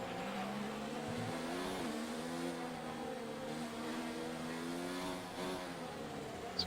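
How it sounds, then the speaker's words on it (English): A Formula 1 car in the F1 2019 video game revs on a practice start, its engine note holding a high steady whine that rises and dips in pitch, fairly faint and alone. "Watch the RPM on a full start."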